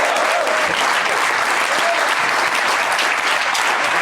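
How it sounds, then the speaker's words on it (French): Audience applauding at a hidden-camera prank reveal, dense continuous clapping from a crowd, loud and close throughout. "On vient applaudir"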